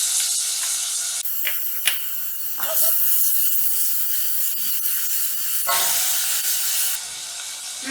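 A garlic and onion mixture dropped into hot olive oil, bursting into a loud hissing sizzle that shifts and dips as the pan is stirred, with scraping and a few clanks.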